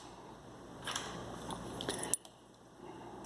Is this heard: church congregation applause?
no